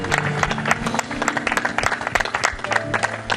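A church congregation claps and cheers after a prayer, a loud, close, dense burst of many hands clapping with scattered voices calling out and a faint sustained tone running beneath.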